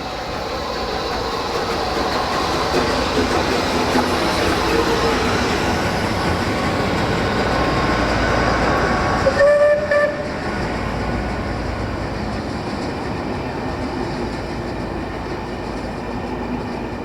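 A train hauled by locomotives, a class 47 diesel coupled behind a steam engine's tender and a class 57 diesel at the rear, rolls past with a steady, heavy rumble of wheels and wagons, a brief tonal note rising mid-pass.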